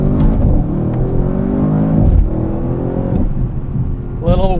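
A 2024 Audi RS7 accelerating hard, its loud engine roar climbing in pitch through several quick gear changes, heard up close from inside the car.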